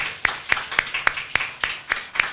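Church congregation clapping together in rhythm during a Sunday worship service, with eight sharp, evenly spaced claps close by and no talking.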